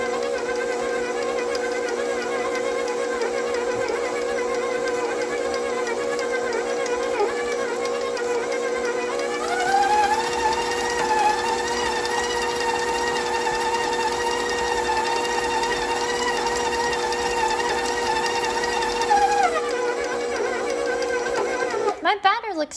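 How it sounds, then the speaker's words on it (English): A stand mixer beats a dry peanut butter and oat dog cookie batter, its motor giving a steady, loud whine that rises in pitch for a stretch midway before settling back, with no talking. "Next, I can restart the mixer."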